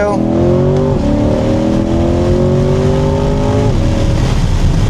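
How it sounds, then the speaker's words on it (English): A 495 hp C8 Corvette Z51 engine revs hard under launch control and climbs in pitch, dropping briefly at each gear shift before rising again, loud and close throughout. "Crazy how fast this car picks up."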